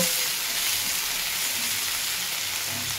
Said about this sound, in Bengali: এই পেঁয়াজটা একটু আগে ভাজা ভাজা করে নেব।